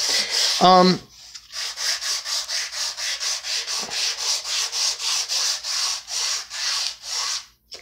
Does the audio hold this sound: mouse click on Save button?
no